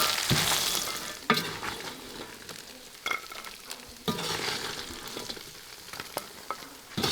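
Lamb and naan are stir-fried together in a pan with salt and cumin, a steady close sizzle punctuated by repeated scraping and tossing sounds from the stirring.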